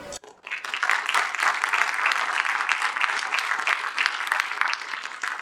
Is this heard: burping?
no